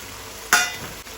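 Soaked cashews drop into a pan of cooking vegetables for a white veg kurma, a single short sizzling splash that fades after about half a second.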